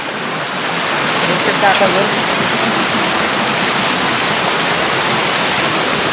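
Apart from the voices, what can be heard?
small waterfall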